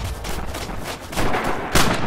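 Gunfire in the World War II shooter Red Orchestra 2 during multiplayer, several loud bursts of shots cracking close by in quick succession over rumbling battle noise.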